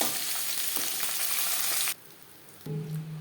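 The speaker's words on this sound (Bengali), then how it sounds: "পরের মাছ একইভাবে ভেজে নেব।" Pomfret fish frying in a pan of oil, a steady loud sizzle that cuts off abruptly partway through, followed by a quieter lower sizzle and a brief clatter near the end.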